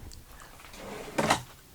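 A drawer in a travel trailer slides shut with a short, close scrape and knock about halfway in, standing alone against a quiet interior.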